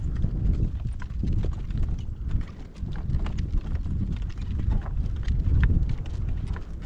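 A horse walks in harness while driving in a pasture, its hooves clip-clopping in a steady, even walking rhythm close by, with wind rumbling underneath.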